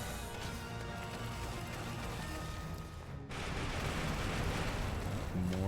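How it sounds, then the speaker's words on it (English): Rumbling explosions from the False Hero demo game, a continuous dense roar with a short dip before a louder blast-filled section, voices faint beneath. "More explosions."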